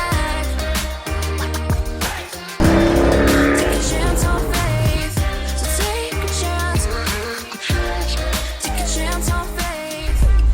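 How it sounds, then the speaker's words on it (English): An auction-bought Chevrolet C5 Corvette with known issues drives on the road, its engine loud and close throughout, with a brief drop like a gear change before pulling hard again. "the Corvette is performing better than I thought"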